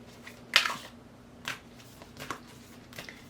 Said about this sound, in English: So I am shuffling from the Herbal Astrology Oracle by Adriana Alias.